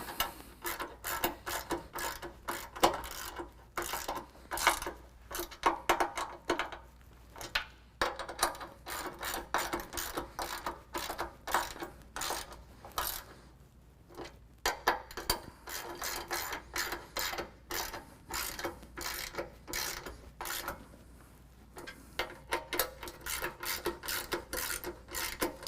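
A hand ratchet tightens the bolts on Rock Slide Engineering Next Gen step sliders for a 2022 Jeep Wrangler. Rapid, raspy clicking comes in repeated bursts with brief pauses between them, close up and with no talking.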